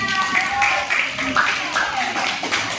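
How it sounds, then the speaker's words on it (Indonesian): A classroom of children claps together after their teacher asks for applause, a steady, dense patter filling the room while voices carry on over and through it. "Oke, tepuk tangan semuanya."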